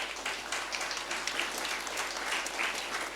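A church congregation bursts into applause for the praise team, a sustained wash of many hands clapping at moderate volume, filling the room evenly throughout.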